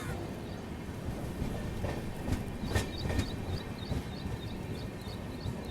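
Tirunelveli Bilaspur Superfast train crawling slowly along the tracks, heard from onboard as a steady low rumble with faint rhythmic clacks and a few louder knocks midway.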